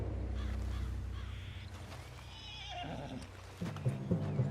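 A spooked horse neighs and whinnies in a Red Dead Redemption 2 game scene, a shrill call rising over a low rumbling background, followed by a few heavier thumps and snorts near the end.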